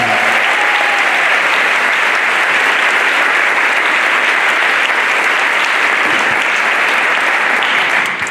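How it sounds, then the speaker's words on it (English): An audience at a back-to-school kickoff event claps in loud, sustained applause that fills the whole stretch at an even level without a break. "So again, if we could give a round of applause to Mr. Kelly."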